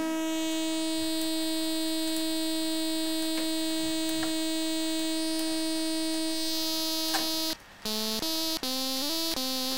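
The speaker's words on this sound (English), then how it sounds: "we then drive certain frequencies into the distortion" A Monotron synthesizer's steady electronic tone hums with layered harmonics, then is driven into distortion, growing harsh and gritty and stepping through a few pitches near the end.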